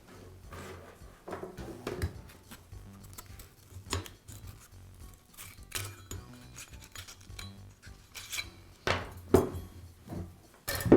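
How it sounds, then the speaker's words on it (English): Metallic clicks, clinks and scraping as the sanding belt is removed from a Makita belt sander, with irregular bursts of small mechanical noise and no voices. "I'll begin by removing the sanding belt from the sander."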